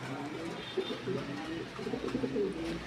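Red Lahori pigeons coo softly and repeatedly in low, throaty bursts, close by in a loft, over a faint indoor background hum.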